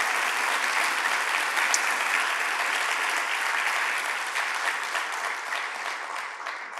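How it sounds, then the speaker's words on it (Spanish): An audience in a church applauds a couple at an ordination of pastoral assistants, the clapping dense and steady throughout, fairly distant and softening slightly toward the end. "le recibimos con un aplauso a esta pareja"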